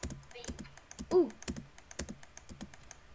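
Rapid clicking of computer keyboard keys during a Minecraft-style building game, a steady run of close, crisp taps with a brief voiced sound partway through.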